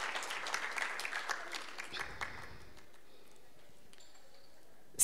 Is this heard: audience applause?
yes